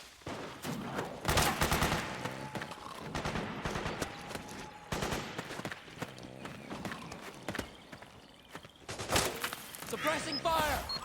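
Loud clusters of rifle and machine gun fire in the military stealth game Metal Gear Solid 4, intermittent rapid bursts separated by lulls, with shouted voices and movement sounds in between.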